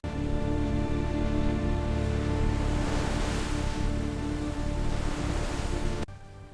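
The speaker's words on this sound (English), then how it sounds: "Rain's hitting the roof steadily now." Rain drums steadily on the roof of a floating wooden jungle cabin, a dense continuous hiss that holds throughout and then drops off abruptly at the end.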